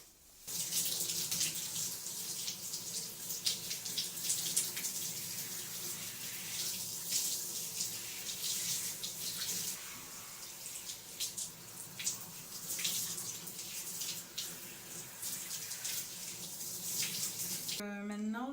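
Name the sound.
shower water running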